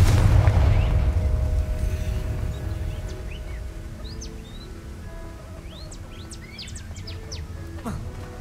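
Confringo spell explosion in the Hogwarts Legacy video game: a loud low boom at the start that slowly dies away, with faint chirping bird calls and soft chimes over the fading tail.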